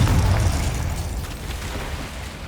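A Confringo fire spell explodes in the Hogwarts Legacy video game, a single deep boom that hits hard at the start and then rumbles away over a couple of seconds.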